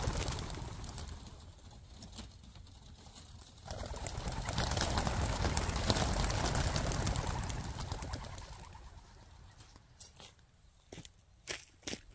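Pet pigeons coo and rustle close by as they are released for homing training, soft throaty cooing mixed with shuffling and wing movement, then a few sharp knocks near the end.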